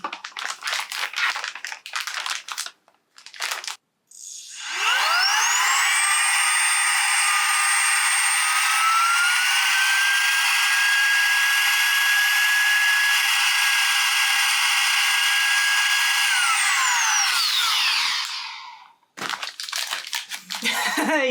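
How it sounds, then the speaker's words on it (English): Saker 3-in-1 cordless vacuum switches on and whines steadily for about thirteen seconds while pulling air out of a food saver bag of horse treats, its pitch shifting slightly as the bag collapses, with talk and handling noises before and after. "And then we'll see if we can suck out the air with the Saker 3-in-1 vacuum."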